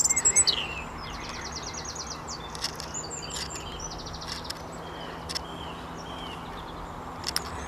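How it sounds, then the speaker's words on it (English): Birds sing by a canal on a spring walk, with bright chirps and trilled phrases scattered over a steady low outdoor hum, fairly near and moderately quiet; no talking. "Can you hear the birds?"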